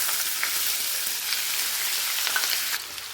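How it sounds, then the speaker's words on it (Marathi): Finely chopped onion frying in hot oil with mustard seeds and cumin, a steady close sizzle with faint crackles running throughout, no voices. "आता सोबतच आपण यामध्ये टाकत आहोत आपण बारीक चिरून घेतलेला कांदा।"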